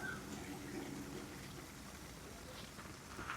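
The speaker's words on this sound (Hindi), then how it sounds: "बारिश फिर शुरू हो गई यार" Rain patters down outdoors on a hill road near Pathankot, a faint, steady soft hiss with scattered drops, distant and low in level.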